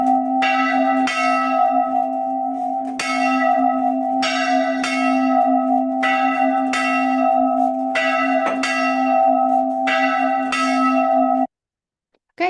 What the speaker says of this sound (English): that is a medieval bell